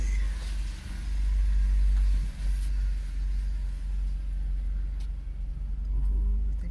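Engine of a 2009 Chevrolet Impala idling low and steady while the car backs up in reverse, a deep continuous rumble heard close with slight variations in load and no talking.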